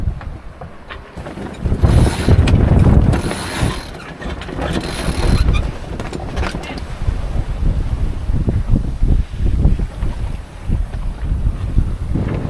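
Strong wind buffets a sailboat under full sail off Hawaii between Hilo and Honolulu, heavy gusts rumbling loud and close with rushing water, creaking rigging and occasional ratcheting clicks.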